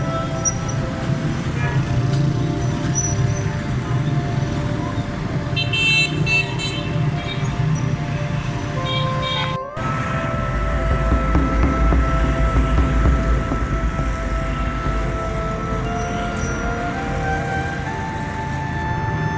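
Dense traffic stuck in heavy fog on a bridge over Canal Road near Kalma Chowk, Lahore, with a steady loud engine rumble and scattered car horns throughout, heard close and continuous.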